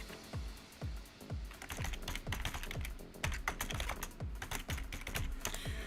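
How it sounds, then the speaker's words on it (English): Rapid typing on a computer keyboard, a dense run of close, crisp key clicks and thumps with uneven rhythm, heard alone without talk. "Let me type it in."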